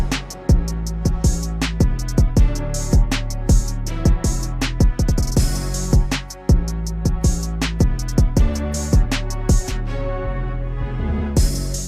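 A trap beat produced on a phone in BandLab plays loud and up close, with booming bass, crisp hi-hats and snare hits under a melodic line, running continuously with no voice.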